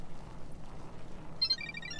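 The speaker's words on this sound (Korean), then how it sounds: "전화 왔다." Telephone ringing inside a horror karaoke video game, a trilling electronic ring that begins near the end over a low, murky ambient rumble.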